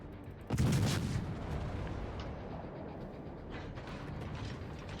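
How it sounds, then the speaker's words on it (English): A battleship salvo booms in a naval combat video game, a sudden heavy blast followed by a long rumbling roar of distant gunfire and mechanical noise, moderately loud and without speech. "That was a 15k damage salvo on the Massachusetts."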